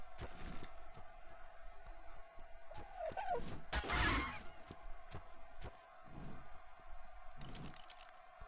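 A chicken in the ARK: Survival Evolved video game clucks and squawks in a few short bursts over a quiet background, with a louder crash-like burst in the middle.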